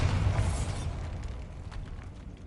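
A Bombarda spell explosion in Hogwarts Legacy, a single deep booming blast with a low rumble that fades away over a couple of seconds, with faint debris clatter afterward.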